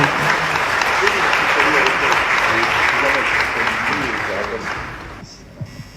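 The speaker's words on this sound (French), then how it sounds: "ça mérite les applaudissements" Dense audience applause fills a hall at Paris City Hall during an Armenian Genocide commemoration round table, loud and steady before thinning out near the end, with voices murmuring underneath.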